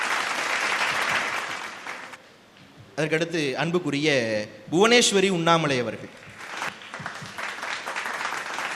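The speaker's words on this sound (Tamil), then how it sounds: "உண்மையிலே கைதட்டினீங்களா?" An audience at a Tamil debate event in Thiruvottiyur claps as speakers are introduced. The applause is broad and steady at the start, drops out while a man announces a name, then returns under his voice.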